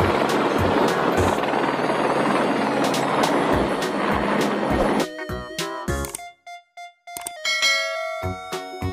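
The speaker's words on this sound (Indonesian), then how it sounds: "Helikopter." Helicopter rotor noise roars steadily for about five seconds, then gives way to bright bell-like musical tones.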